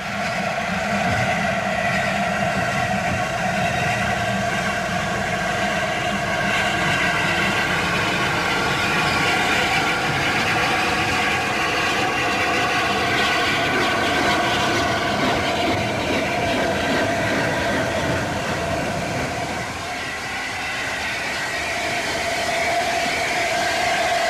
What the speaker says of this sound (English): Backing onto the train once more, the A4's corridor tender is clearly seen.